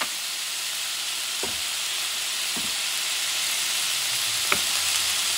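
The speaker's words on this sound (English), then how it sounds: "And you're going to start cooking that meat." Meat seasoned with garlic powder sizzling and frying in a pan, a dense steady hiss throughout with a few faint clinks of the utensil, close, with no talk.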